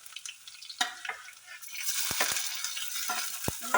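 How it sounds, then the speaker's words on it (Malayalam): Mustard seeds, garlic and shallots fry in hot oil for sweet potato upperi, giving a close, steady sizzle broken by sharp pops and clinks of stirring. No voices are heard. "കടുക് പൊട്ടിയിട്ടുണ്ട് കേട്ടോ ഞാൻ എന്തെങ്കിലും വെളുത്തുള്ളി ചേർത്തിട്ട് കൊടുക്കുന്നുണ്ട് നമുക്ക് ചുവന്നുള്ളിയും കൂടി ഇട്ട് കൊടുക്കാം"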